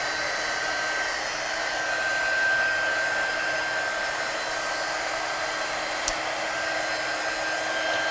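A heat tool blows steadily for several seconds while warming a stamped card, a constant loud whooshing hum with a slight swell partway through and a tiny click near the end; no talking.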